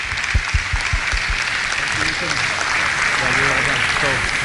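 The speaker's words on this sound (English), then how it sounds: "let's get another quick round of applause for the kids that were with us all day today." An audience at a basketball clinic applauds the kid demonstrators, a burst of clapping that holds steady for a few seconds while a voice talks over it.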